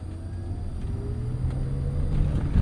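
A 1987 BMW 325is E30 with a five-speed manual pulling away, its engine rumbling low and steady and swelling slightly as it gets underway, close and without talk.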